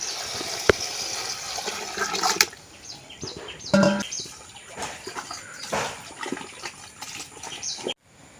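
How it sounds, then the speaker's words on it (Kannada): Water pours and splashes steadily for several seconds as lentils are rinsed, with a few clinks of a vessel, then cuts off abruptly near the end. "ಇನ್ನೊಂದು ಸಲ ನೀರು ಹಾಕಿ ತೊಳ್ಕೊಳ್ಳುವ"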